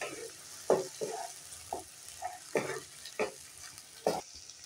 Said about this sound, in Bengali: এবার এর মধ্যে আমি দিয়ে দেব আদা, রসুন আর কাঁচা লঙ্কা বাটাটা, দিয়ে ভালো করে কষবো